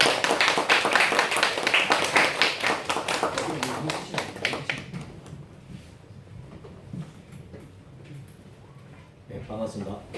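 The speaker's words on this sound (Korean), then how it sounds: "우리 목사님 나올 때 우리 환영의 박수로 한번 환영하도록 하겠습니다." A church congregation claps in welcome during a Sunday service. The dense, lively applause lasts several seconds, then thins out to scattered claps and quieter room sounds.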